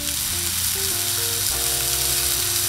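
NY strip steak sears on a 22-inch Blackstone griddle, a loud, dense, unbroken sizzle with no voices over it.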